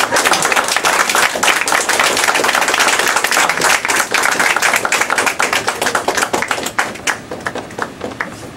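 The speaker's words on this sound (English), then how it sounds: "A round of applause, Brother Minister J.A. Muhammad." Sustained applause from a large crowd, dense steady clapping that fills the whole stretch before thinning slightly near the end.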